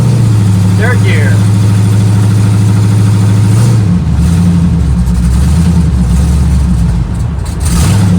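1972 Chevrolet Nova with an LS 5.3 V8, BTR cam and built 4L60E automatic accelerating through third gear. A loud, close, steady exhaust drone rises as the car pulls, with a brief voice early on and the engine note shifting midway.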